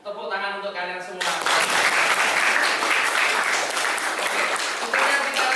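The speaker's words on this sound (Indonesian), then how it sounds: "Tepuk tangan untuk kalian semua." Students in a vocational high school (SMK) classroom in Indonesia break into lively applause after a brief spoken phrase. The dense clapping stays steady and fairly loud for about four seconds.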